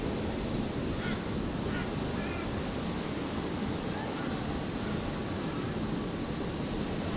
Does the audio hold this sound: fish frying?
no